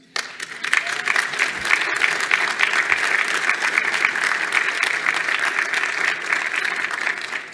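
An audience claps in sustained applause, a dense, even patter of many hands continuing for several seconds.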